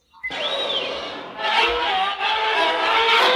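A lightsaber sound font plays a podracer engine effect: a loud, close whine fires up and then roars steadily, surging with a rising pitch and swelling midway and holding to the end.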